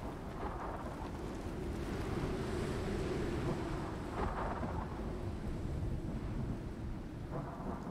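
A thunderstorm in the survival game Icarus rumbles with low rolling thunder under steady heavy rain and wind, continuous and dense throughout.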